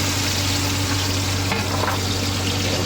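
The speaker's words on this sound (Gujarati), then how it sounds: "આપણે એમાં રીંગણા નાખી દીધા." Eggplant cooks in a frying shrimp curry, a steady, loud sizzle close by with stirring scrapes mixed in.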